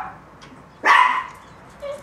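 A dog barks once indoors, a single loud, sharp bark close by, followed by a faint softer sound and no talking.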